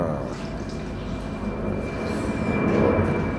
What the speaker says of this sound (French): j'adore, l'avion passe.